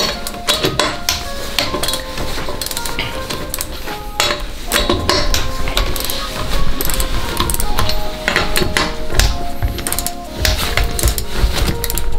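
A ratchet loosens lug nuts while a Toyota Corolla tire is changed, producing loud, continuous rapid clicking and metallic clattering throughout, with no talk.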